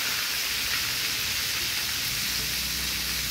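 Tempe wudo fries in hot oil, giving a steady, even sizzle that stays close and constant throughout, with no voices.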